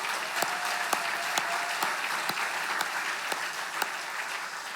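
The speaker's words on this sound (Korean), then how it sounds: "수고 많이 하셨는데 우리 격려의 박수 보내겠습니다" Applause for a church choir and youth worship team at an autumn special dawn revival service: a steady, full wash of clapping from a congregation, with a few sharper individual claps standing out, sustained throughout with no talk.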